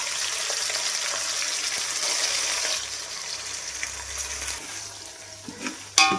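Ginger garlic paste sizzles and fries with golden onions in a pan for chicken biryani, a steady loud hiss that gradually settles, ending with a few clinks.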